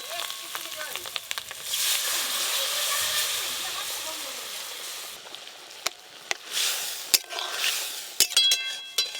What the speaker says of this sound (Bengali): খুব বেশি নাড়বো না, জল দিয়ে দেবো।